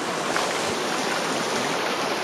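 A river in the Philippines, running high after rain, gives a steady, loud broadband rush of flowing water that stays constant and close with no voices.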